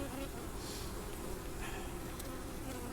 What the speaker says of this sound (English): You got a ton of bees,